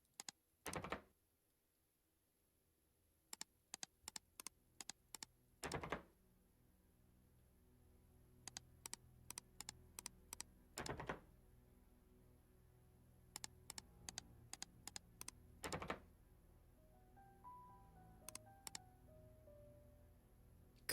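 Clicky computer keyboard typing in short separate bursts, close and fairly quiet against a near-silent background, with a few soft tones near the end.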